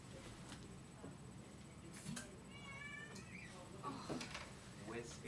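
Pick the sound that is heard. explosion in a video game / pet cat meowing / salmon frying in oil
pet cat meowing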